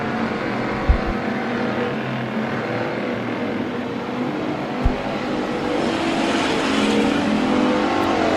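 Race cars battling on the Bakersfield Speedway oval, a continuous engine roar that grows louder toward the end as cars near, with a couple of sharp thumps early on.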